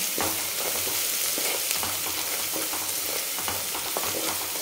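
Coconut, ginger and garlic roast in a pan, giving a steady dense sizzle and crackle with faint stirring scrapes, close and continuous without any talking.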